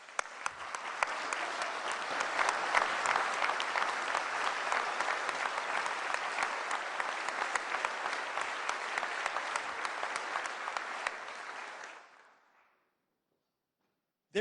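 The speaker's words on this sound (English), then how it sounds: "Please give a round of applause to a great family man and a hard worker, Brandon Eilenfeld." Sustained applause from an audience at a state budget address fills the hall, steady and dense for about twelve seconds before tapering off quickly into silence.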